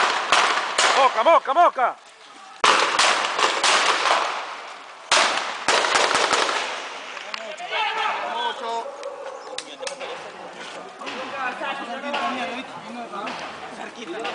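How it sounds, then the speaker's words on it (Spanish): Sharp gunshot cracks echo during a shootout inside a Venezuelan prison, several loud bursts early and then scattered pops, with people shouting and talking over them. "Nos disparan de allá para acá y de este lado."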